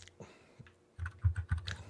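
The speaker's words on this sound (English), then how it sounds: "Dude, you pound on your keyboard." Hard, heavy typing on a computer keyboard, a quiet stretch of light taps giving way to a burst of loud, rapid, forceful keystrokes close by.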